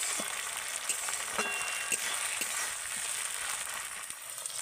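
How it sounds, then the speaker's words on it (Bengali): Ginger garlic paste frying lightly with onions in a pan for a Bombay duck fish dish, a dense steady sizzle with a few light stirring scrapes, close, with no talking. "আদা রসুনটাকে পেঁয়াজের সাথে হালকা করে ভেজে নেব"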